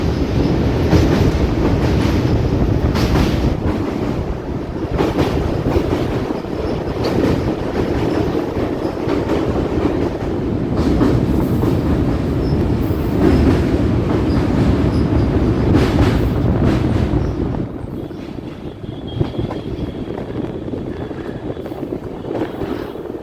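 Lichchavi Express (14005), an older-style passenger train, rumbles loudly on the rails, its wheels clattering in a steady, close roar with rhythmic clicks before the noise eases slightly near the end.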